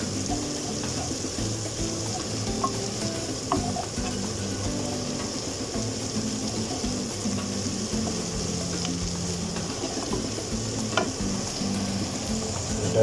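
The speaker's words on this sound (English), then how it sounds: "You just want to kind of fry that off as well, just cooks the bit of bitterness out of it." Tomato puree frying in a pan for a chorizo, chickpea and bean stew: a steady, moderate sizzle that runs throughout, broken by occasional faint clinks of a utensil against the pan.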